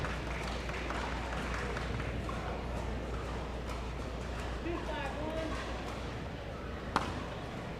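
Steady crowd applause fills a pickleball doubles match at the North Carolina Open, sustained and moderately distant, with a single sharp paddle pop near the end and commentary underneath.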